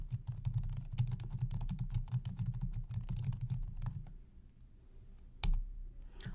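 Rapid, close keystrokes clatter on a computer keyboard as a query goes into a search box, a quick rhythmic burst for about four seconds followed by a few scattered taps and a final louder key press.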